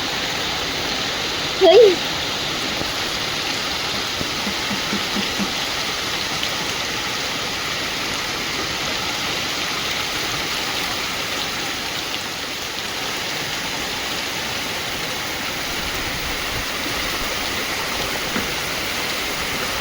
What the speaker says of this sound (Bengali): বিশাল জোরে বৃষ্টি হচ্ছে